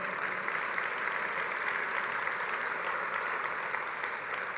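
A church congregation applauds the Lord during a Portuguese-language worship service, a steady wash of many hands clapping at even strength for several seconds with no voices over it.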